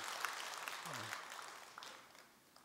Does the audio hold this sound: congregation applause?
yes